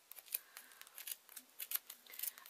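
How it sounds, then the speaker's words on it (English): Scissors snipping through wool while upcycling an old hoodie into a hat, a quiet run of quick crisp clicks and small pings in an uneven rhythm, close up with no talking. "I really don't like this noise actually, wool being cut."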